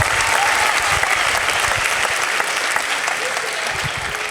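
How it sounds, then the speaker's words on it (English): Loud, dense applause from a Comic-Con audience in Wales for costumed cosplayers on stage, a steady wall of clapping that holds throughout with little change in level. "Please give them a round of applause."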